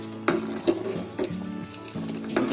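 Fried makhana (fox nuts) are stirred through milk in a pot for kheer, giving a soft simmering sizzle broken by four or five distinct scraping strokes of the spoon against the pan, close up and without talk.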